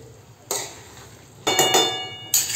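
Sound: spoon mixing boiled chickpeas in a pot

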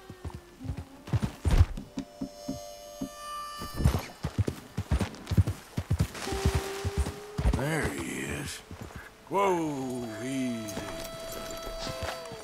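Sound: horse hooves clip-clopping in video game

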